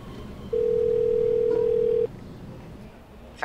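A steady telephone dial tone hums for about a second and a half while a job seeker places a call, then cuts off, leaving quiet room noise before a brief sound at the end.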